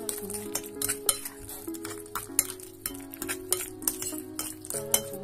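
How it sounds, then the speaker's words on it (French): A spoon or whisk stirs peanut cake batter in a bowl, giving quiet rhythmic scraping and light clinks against the sides throughout. "On mélange bien."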